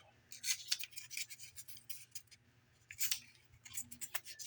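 A knife cuts a plastic part for a 1/144-scale HG Gundam model kit, making faint, close, scratchy scraping strokes in short bursts with brief pauses, without talk.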